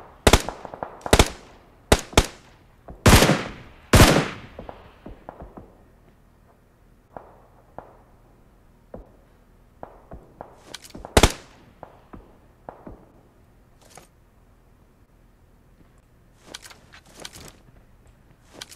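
Sharp bursts of gunfire in the battle royale game BGMI, a cluster of loud close shots early on, then scattered fainter shots and a few loud cracks, with no talk.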